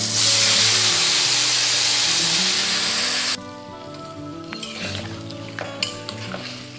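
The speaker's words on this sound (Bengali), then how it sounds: "কড়াইতে সম্বারও দিয়ে দিয়েছি, গোটা গরম মশলা আর তেজপাতা, শুকনো লঙ্কা দিয়ে দেবো।" Whole garam masala spices, bay leaf and dried red chillies hit hot oil in a wok, giving a loud broad sizzle for about three seconds before it settles into a quieter crackle with small clinks and stirring.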